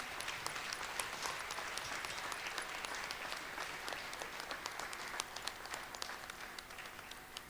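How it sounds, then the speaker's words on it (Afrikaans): Audience applause at a church gathering, a dense, steady wash of many hands clapping that holds for several seconds with no talking over it. "Kom ons gee 'n laaste applous vir al die mense."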